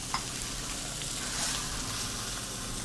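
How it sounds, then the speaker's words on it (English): Pork searing without added oil in a hot oven-proof pan on high heat, a steady soft sizzle and hiss that holds evenly throughout, close and fairly quiet, with no voices. "we're gonna let it sear on both sides about 5 to 7 minutes until it's browned everywhere"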